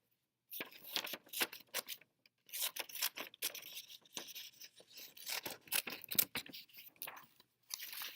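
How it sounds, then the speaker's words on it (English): Scissors cut out a paper fish in a quiet room, producing close, crisp snips and crunchy paper rustles in quick irregular clusters separated by short pauses, with no voice present. "So I'm going to cut out a fish."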